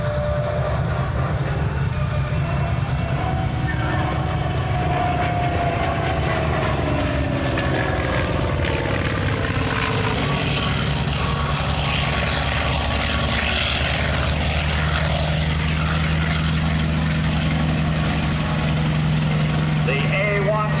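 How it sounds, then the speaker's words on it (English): Douglas A-1 Skyraider warbird flying at an airshow, its propeller engine droning and shifting in pitch as it passes, with an announcer talking over the sound. "The A-1 Sky Raider, flown by Dr. Michael Schloss."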